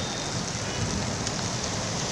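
A sudden unseasonal downpour over a city on a Sunday afternoon: dense, even rain noise with no voices, drumming steadily throughout.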